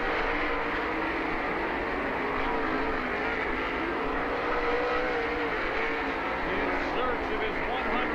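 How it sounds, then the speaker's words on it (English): Sprint car racing on the dirt oval at Lernerville Speedway in Sarver, PA, with engines roaring and accelerating down the back straightaway, a dense continuous drone with a steady level throughout and no break. "he'll accelerate down the back straightaway"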